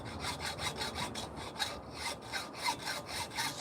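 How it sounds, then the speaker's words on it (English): Hacksaw cutting through a wooden carving log in steady back-and-forth strokes, about two strokes per second, close up and fairly quiet, with no talking. "Just using a hacksaw."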